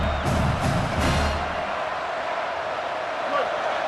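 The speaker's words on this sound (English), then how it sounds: "Listen to this crowd just shaking the girders of this place, trying to help their defense." Stadium crowd at a South Carolina vs Texas A&M college football game, a roaring wash of noise under a commentator's voice that stays loud and steady throughout.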